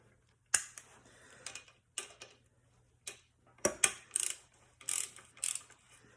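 A torque wrench fitted with a 1/4-inch adapter works on a valve body nut of a 904 transmission, giving quiet, short bursts of ratcheting clicks and mechanical ticks separated by near-silent pauses.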